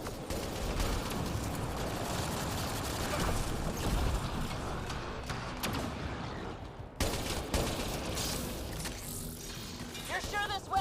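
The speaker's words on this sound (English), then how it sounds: "Looks like we got that turret on our side just in time!" A turret fires on the player's side in a Mass Effect Andromeda battle, with rapid continuous bursts of gunfire and clanking mechanical effects through a noisy firefight, broken by a brief gap before shooting resumes.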